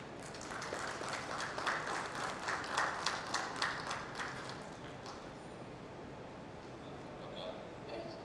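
Faint, distant audience applause at an engineering panel discussion on surface coating and corrosion control, a scattered patter that thins out after a few seconds, with background murmur.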